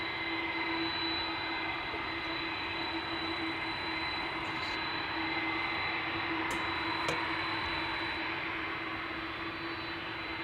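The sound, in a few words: airplane jet engines at Amsterdam Schiphol Airport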